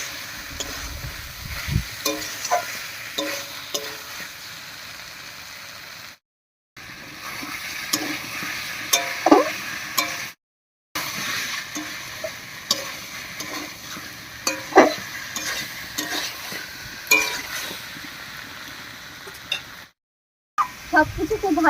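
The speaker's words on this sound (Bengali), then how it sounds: "চিংড়ি মাছ দিয়ে সব কিছুর সঙ্গে খুব ভালো করে একটু কষিয়ে নেব।" Prawns sauté with potato, pointed gourd and spices in a pan, a low sizzle under repeated spatula scrapes and clinks, with short pauses between stirring bursts.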